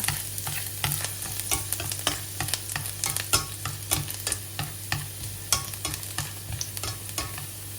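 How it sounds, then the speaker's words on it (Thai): Garlic stir-frying in a pan for a Thai dish, a steady close sizzle broken by frequent sharp scraping clacks of a utensil against the pan, with no voices. "ใส่กระเทียมนะคะ ผัดให้กระเทียมหอมค่ะ"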